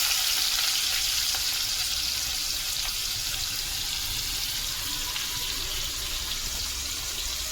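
Finely chopped onion fries in oil already used for frying fish, a steady close sizzle with crackling that stays even throughout and has no talk over it.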